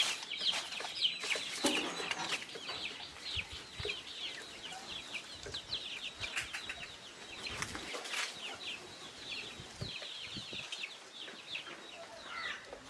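Many chicks chirp and cluck continuously at close range in a coop, with occasional rustling and brief wing flaps among them.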